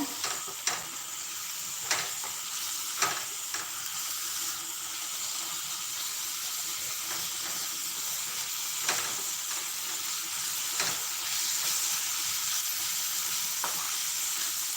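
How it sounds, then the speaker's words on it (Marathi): Ginger, garlic and green chilli paste sautés in a pan for rajma, giving a steady, even sizzle throughout with occasional soft clicks of stirring, moderately close and alone. "त्यानंतर त्यामध्ये आलं लसूण आणि हिरवी मिरचीचा पेस्ट घालायचा आणि त्यालासुद्धा एकदम व्यवस्थितशीर परतून घ्यायचा"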